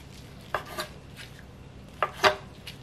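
A knife slicing raw salmon into thick pieces for homemade sushi, producing a few separate crisp strikes against a cutting board in two brief pairs, close and clear with no talking.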